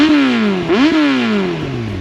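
A Yamaha R1 sport bike with a cable throttle and 182 horsepower screams in a loud, close, high-pitched rev that rises, dips briefly, then climbs again, with no talking.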